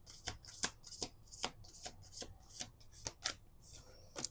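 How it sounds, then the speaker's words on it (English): A deck of oracle cards is shuffled by hand, producing a brisk series of crisp riffling and slapping bursts at an uneven rhythm. The sound is close and moderately quiet, with no talk over it. "We're going to do 2 more shuffles."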